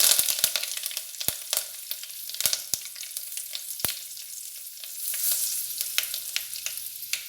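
Curry leaves spit and sizzle in hot oil for sambar, a close, steady frying hiss broken by sharp crackling pops throughout, with no talking.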